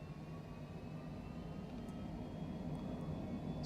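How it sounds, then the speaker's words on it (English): A Cessna Citation Longitude jet takes off in Microsoft Flight Simulator 2020, a faint, steady low engine rumble with a thin whine above it, continuous and without voices. "And we are in the very powerful Cessna Citation Longitude."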